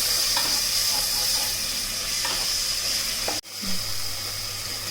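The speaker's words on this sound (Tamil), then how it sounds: "தக்காளியை நல்லா வதக்கணும்" Tomatoes sautéing in oil with ginger garlic for a Chettinad chicken gravy make a continuous soft sizzle, fairly quiet and even, with a brief clatter and a short gap near the end.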